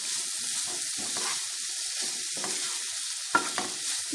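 Vegetables for chicken noodles are stir-fried in a pan, giving a soft, steady sizzle broken by several scraping stirs and a sharp clack near the end.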